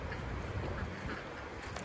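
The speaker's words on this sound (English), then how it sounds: "And I hear those ducks." Ducks quacking outdoors near a creek, a short busy burst of nasal calls close by over a dense, noisy background, no talk.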